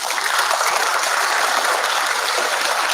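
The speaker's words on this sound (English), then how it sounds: "Big round of applause for them." An audience at a candidate forum in a performing arts center applauds steadily, a dense, even wash of many hands clapping at close range with no pauses or voices over it.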